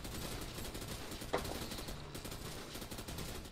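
Bursts of rapid gunfire from a game, a sharp crack standing out amid a busy, noisy mix, fairly quiet overall.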